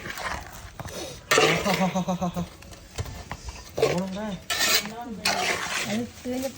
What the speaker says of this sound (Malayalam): നല്ല കല്ല് വെച്ചിട്ട് ചമ്മന്തിപ്പൊടിയിൽ ഇങ്ങനെ ഇടിച്ചു കൊടുത്തോണ്ടിരിക്കുകയാണ്